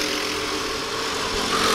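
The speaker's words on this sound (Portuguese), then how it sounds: "O giro dos motores." Kart engines drone and whine steadily at high revs during a race, a continuous buzzing roar that swells slightly toward the end.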